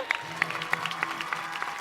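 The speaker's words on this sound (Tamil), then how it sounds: "பத்மாக்காக எல்லாரும் சேர்ந்த மாதிரி ஒரு பெரிய கைத்தட்டல் கொடுத்துருங்க." Audience applause at a televised event, a steady patter of many hands clapping close by with sharp individual claps standing out, continuous through the brief moment.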